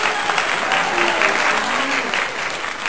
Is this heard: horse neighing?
no